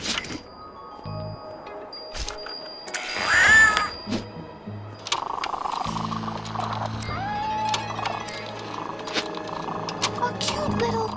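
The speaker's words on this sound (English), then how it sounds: "A cute little kitten." Angry Kitty decoy in a video game letting out meows amid gunfire and game effects, cat cries rising over a busy, moderately loud mix with some voice nearby.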